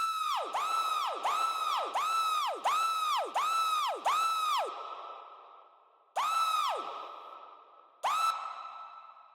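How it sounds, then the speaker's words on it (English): A woman's scream sample in a house music track repeats in a rapid stuttering chain of seven identical bursts. After a pause, two more single hits follow, each trailing off with a fading echo. "I've then got her scream."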